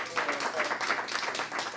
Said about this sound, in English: give her a short round of applause